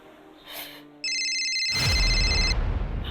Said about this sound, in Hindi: आदि का फोन।